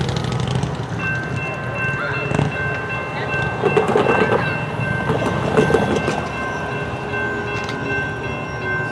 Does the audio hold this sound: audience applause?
no